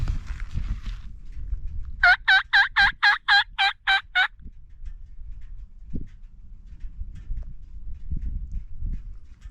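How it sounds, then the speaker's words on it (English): Merriam's wild turkeys gobbling in the distance on South Dakota public land, one rapid burst of about nine sharp pulses, with wind and rustling before and after. "They're still up there yakking. They're still gobbling."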